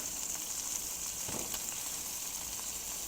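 Shrimp and scallops browning in oil in a Vinchef sauté pan, giving a constant bright, hissing sizzle at steady volume with a brief louder spatter partway through, no voices.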